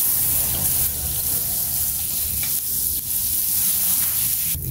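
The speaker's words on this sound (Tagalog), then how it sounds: "Okay guys, mainit na yung kawali. Maglagay tayo ng dairy cream." Dairy cream poured into a hot pan sizzles and hisses steadily, a dense, even frying crackle filling the whole stretch with no talk over it.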